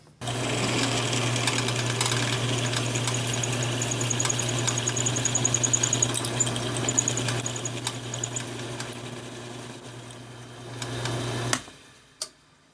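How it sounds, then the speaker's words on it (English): Drill motor running steadily while boring holes in a newly fabricated rear corner part of a Fairmont MT19A railroad motorcar, a constant loud whine with rattling toward the end, then stopping abruptly. "I should have drilled this when I had it set up the other way"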